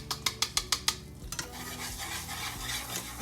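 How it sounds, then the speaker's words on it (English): Regular metallic taps of a utensil against a pan open the clip, then a soft steady sizzle of butter heating continues on its own. "because our butter is starting to sizzle"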